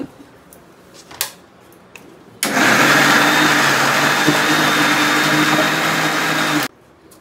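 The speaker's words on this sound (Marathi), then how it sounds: "ते आपण जे वाटप मगाशी घेतलेलं ते आता इथे आता मिक्सरला लावते" A mixer grinder grinds masala paste for Malvani-style kaju bhajji, starting abruptly as a loud, steady motor whir with rattling, running for about four seconds and then cutting off. A few faint clicks come before it starts.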